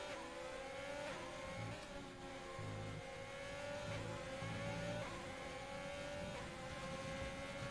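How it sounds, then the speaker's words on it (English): Race cars in a sim racing video game on an esports circuit: steady, fairly faint engine drone with shifting revving tones and passing cars, unbroken from start to finish. "Tepcro has a chance to overtake him because he's stuck behind my HR man."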